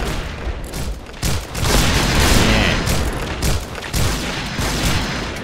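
Gunfire in the Point Blank online shooter, dense booming shots and bursts blending into a continuous loud barrage with no clear gaps.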